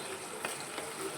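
Raw green mango pieces cooking in spice masala in a pan, a faint, steady sizzle with a couple of soft stirring knocks, brief and quiet.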